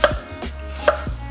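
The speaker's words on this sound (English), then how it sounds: "Ginger, just slice into 3 big chunks." Knife cutting ginger into big chunks on a board, two crisp, close chops about a second apart in a quiet kitchen with no speech.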